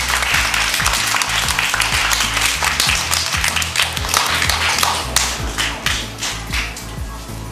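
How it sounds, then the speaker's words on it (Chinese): A crowd applauds warmly for a sponsor at a 2009 primary school filial-piety storytelling competition, dense clapping sustained throughout and tapering slightly at the end. "我们给他一个热烈掌声。"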